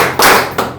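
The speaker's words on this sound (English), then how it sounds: "This is where you clap for the facilitator." Workshop audience clapping for the facilitator at an ICT club patrons' workshop at a girls' school in Jinja: two quick bursts of applause from a group of hands, loud and close, with no talking.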